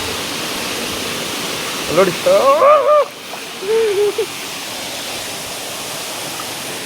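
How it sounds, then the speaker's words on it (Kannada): Steady broadband rush of the Ermayi waterfall at a forest falls, continuous throughout, with people talking briefly over it in the middle. "ಇದುವೇ ಎರ್ಮಾಯಿ ಜಲಪಾತ"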